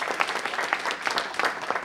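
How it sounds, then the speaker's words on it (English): Short burst of audience applause at a city council meeting, a dense patter of many hands clapping at moderate level with no talk over it. "go ahead, give a round of applause again"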